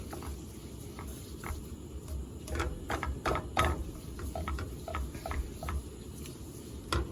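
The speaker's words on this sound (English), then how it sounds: "just mix it up real good" A spatula stirs a mixture in a pan for Sunday dinner, giving soft, irregular scraping and tapping clicks over a low background hum, close but quiet.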